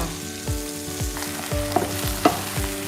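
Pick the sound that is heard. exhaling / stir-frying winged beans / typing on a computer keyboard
stir-frying winged beans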